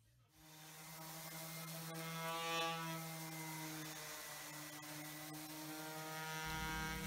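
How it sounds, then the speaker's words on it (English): A random orbit sander with 60-grit paper smooths the rails of an antique mahogany Sheraton chest of drawers, making a steady humming motor drone that stays fairly even throughout, with no voices. "here I'm using the random orbit sander with 60 grit to clean up the rails."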